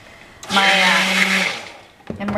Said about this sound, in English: immersion blender in some water and just turn it on for a few seconds to get the soap off of it